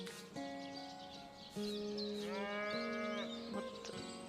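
Several cows in a pen in Divinity: Original Sin moo in long, overlapping calls, fairly loud, with faint chirps of birds in the background.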